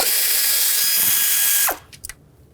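A power ratchet removing a solenoid bolt on a 3.5L V6 Nissan Pathfinder engine, a loud continuous high whir that cuts off abruptly, followed by a few small metallic clicks.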